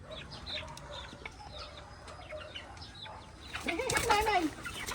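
Backyard chickens and ducks cluck softly and intermittently, then one bird gives a loud, drawn-out squawking call near the end, with a little talk in the background.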